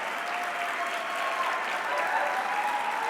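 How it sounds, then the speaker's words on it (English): A conference audience applauds in a sustained, even wash of clapping that holds steady at moderate loudness throughout. "So let's bring them up and give them a round of applause."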